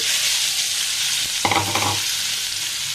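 Ginger garlic paste frying in hot oil, a loud, steady close-up sizzle with a brief burst of spoon stirring and scraping against the pan in the middle, no voices.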